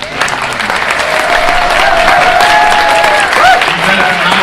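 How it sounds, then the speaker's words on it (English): A crowd applauds Senator Jones at a symposium, loud dense clapping with cheering voices and whoops rising over it, steady throughout the short burst. "let's give another round of applause to Senator Jones"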